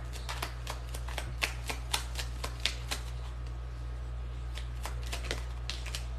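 A deck of message cards is shuffled in quick, repeated riffling bursts, crisp and close, over a steady low hum.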